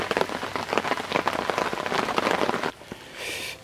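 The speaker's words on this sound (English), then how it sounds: "I think this rain set in right through the rest of the day into this evening." Rain falls steadily on a surface beside a moorland carp fishing spot, a dense patter of drops that stops abruptly near the end and gives way to a softer hiss.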